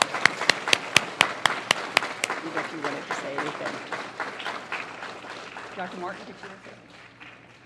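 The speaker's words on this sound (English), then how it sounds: "So a big round of applause for him." Audience applause at an education board's celebration of excellence event, with sharp, loud individual claps opening and then thinning into scattered, fading clapping while people talk over it.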